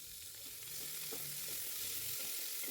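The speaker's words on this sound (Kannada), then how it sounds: "ನೀಟಾಗಿ ಸ್ವಲ್ಪ ಗೋಲ್ಡನ್ ಕಲರ್ ಬರೋ ತನಕ ಫ್ರೈ ಮಾಡ್ಕೊಳ್ಬೇಕು" Green chili, onion and tomato frying in a pan for a festival holige sambar, a continuous hissing sizzle close up and alone, with faint stirring scrapes.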